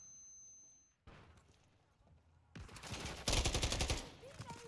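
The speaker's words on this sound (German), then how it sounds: "Werde hier beschossen." Automatic gunfire bursts in the shooter Call of Duty: Modern Warfare 3, starting quietly after a brief silence and swelling into loud, dense rapid fire with heavy impacts, mixed with game sound and a German voice talking over it.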